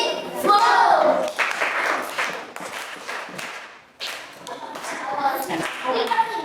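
Audience clapping for a child in a classroom after she recites multiplication numbers, a sustained burst of many hands with a voice and talk mixed in, fading briefly before a second round of clapping.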